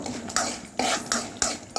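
Repeated scraping strokes of a spoon stirring ingredients in a metal cooking pot, about five rhythmic sweeps in quick succession, close and clear with no talking.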